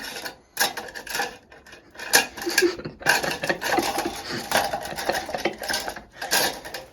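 Metal spoons and cutlery clatter and clink as someone rummages through a kitchen drawer, in busy irregular bursts of rattling close by, with no talk.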